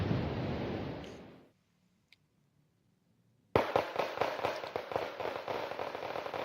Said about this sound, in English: Shelling. My mortar is doing some decent damage to this shock infantry squad.